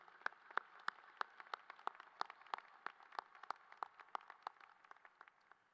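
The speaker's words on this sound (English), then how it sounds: "graduates, please join me in a round of applause for all of your family and friends that came here" A graduation ceremony audience gives a round of applause, with many scattered hand claps in an even, moderately distant patter that continues throughout the clip with no speech.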